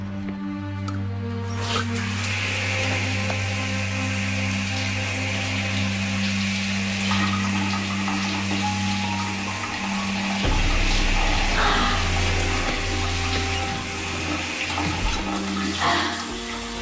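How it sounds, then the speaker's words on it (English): An indoor shower running for a long stretch, a steady broadband hiss of spraying water with a low mechanical hum beneath, shifting in tone partway through, with no talking. "Okay, I'm gonna go take a shower."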